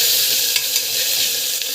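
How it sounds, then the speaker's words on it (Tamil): Ginger garlic paste sautés in hot oil after mustard and cumin seeds, giving a loud, even sizzle with a few faint scrapes from stirring. "இஞ்சி பூண்டு பேஸ்ட்டு ஸோ இது நல்லா வந்து வதக்கிக்கோங்க"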